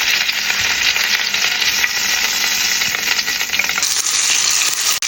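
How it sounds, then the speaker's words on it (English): Lamb chops frying in a pan, a loud, close, continuous sizzle and crackle that holds steady throughout with no voices. "lamb chops is cooked based on how you like it done"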